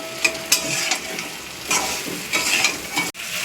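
Muri ghonto mixture with turmeric, chili, cumin and salt is stirred in a pan, giving close scraping strokes and soft bumps of the spoon over a low sizzle, ending in a sharp cut.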